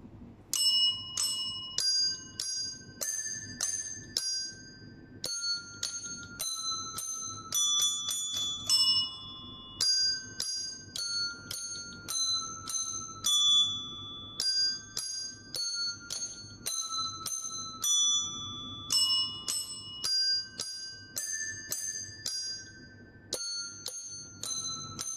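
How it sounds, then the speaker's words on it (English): Colored percussion bells play the melody of Twinkle Twinkle Little Star, each bright metallic note struck clearly in a steady rhythm with ringing tones throughout, alone and close. "the colored bells are from the percussion family"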